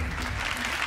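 Audience applause rises at a televised talent show in Chile, a loud, dense wash of clapping that runs steadily through the whole short moment.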